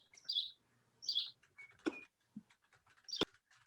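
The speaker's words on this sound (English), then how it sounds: "You have great birds, Joe." Birds chirp outside in short, scattered bursts of high tweets, faint and distant, separated by quiet gaps, with a few soft clicks in between.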